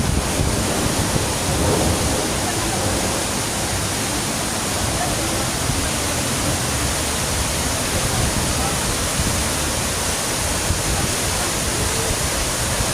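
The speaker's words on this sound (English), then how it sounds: "Check out the waterfall." Broad, steady roar of the big waterfall at the Wynn resort in Las Vegas, a dense unbroken rush of falling water heard up close and loud throughout.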